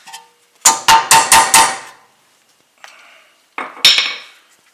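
Hammer blows on steel front brake parts of a 2014 Chevrolet Malibu during a pad replacement: a quick run of five sharp metallic strikes, then a pause, a lighter scrape and two more clanging hits, close and loud.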